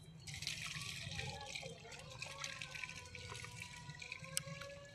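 Water poured onto a lime tree in a garden, a steady splashing and trickling that runs continuously at close range, with small drips and gurgles over a low background hum.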